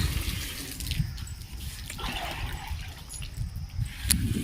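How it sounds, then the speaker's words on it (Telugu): A steady trickle of water running from a tap pours nearby, a continuous liquid rush with no voices. "ఇంక ఇక్కడైతే మమ్మ వాటర్ పడుతుంది"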